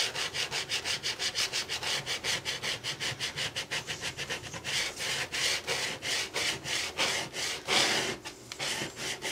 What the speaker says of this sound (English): take your scraper tool and just start scraping